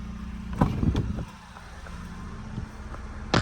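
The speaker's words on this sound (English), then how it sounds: "we'll start the car back on" A Ford Bronco engine turns over and catches, with a few uneven bursts at the start before it settles into a steady low idle, close by and with no talk.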